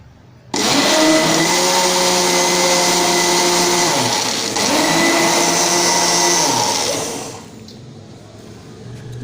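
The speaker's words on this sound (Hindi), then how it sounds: "अच्छे से ग्राइंड कर लेंगे।" Mixer grinder blending gram flour and yogurt with a little water into a paste, a loud steady motor whine running for about seven seconds with a brief dip midway before cutting off.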